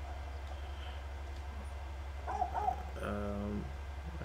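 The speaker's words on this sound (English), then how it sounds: "a cute little dog." A small dog barks and yips in The Last of Us, a few short sharp calls close by over a steady low game hum.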